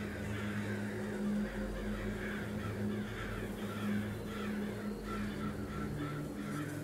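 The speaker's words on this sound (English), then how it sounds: "I need to befriend the crows." Crows in the game Forgive Me Father caw repeatedly in a busy, overlapping chorus at moderate volume, set over a constant low droning background with no talking.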